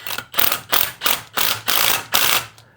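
Pneumatic impact gun driving a reverse-thread bolt on a car in short, loud rattling bursts, about seven hammering runs with brief pauses between them, close up with no talking.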